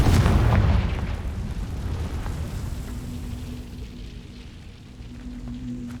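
A blasting spell erupts in a fantasy game, a loud booming explosion at the start that decays into a rumbling tail and lingering hum over several seconds.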